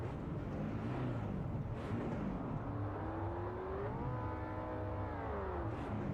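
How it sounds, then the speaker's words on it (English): Road car with a raised exhaust in the racing game Project Motor Racing, its engine droning and revving in a continuous rising and falling tone, loud and steady throughout with no talk. "Road car with a raised exhaust."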